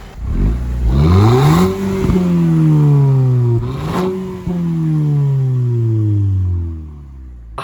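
The new engine in a rebuilt, formerly written-off Audi TT revs up twice, its loud close tone climbing and then settling into a steady idle that fades at the end.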